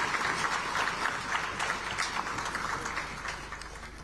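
An audience at a formal parliamentary conference claps steadily, a dense, even patter of many hands at moderate distance that slowly fades toward the end.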